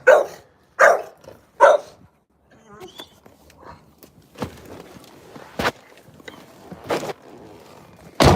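A pet dog barks three times on command in sharp, loud, evenly spaced barks close up, followed by softer movement and a few more single barks, with a person's voice in between.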